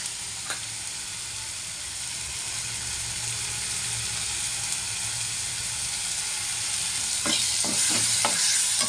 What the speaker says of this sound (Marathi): आपलं टमाटर चांगलं नरम होईपर्यंत आपल्याला याला असं परतून घ्यायचं